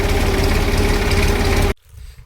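A tractor engine idles with a loud, steady low rumble and rhythmic knocking pulses for nearly two seconds, then cuts abruptly to near quiet.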